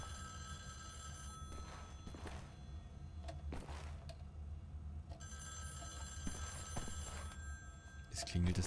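A telephone rings in Wolfenstein: The New Order, with repeated bell bursts recurring through the clip over low game ambience, ending with a louder thump.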